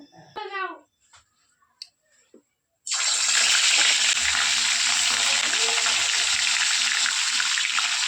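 Fish coated in salt and turmeric hit hot oil in a pan with a loud, continuous sizzle that starts abruptly after a few quiet moments and brief talk.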